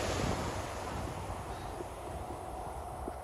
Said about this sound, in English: we got a nice wind coming off the water